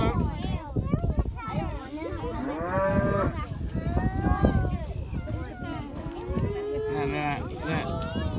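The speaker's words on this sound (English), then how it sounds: "Daddy, the cow." Cattle at a livestock farm moo repeatedly, long drawn-out calls from several animals overlapping, fairly close and loud, while children and adults talk throughout.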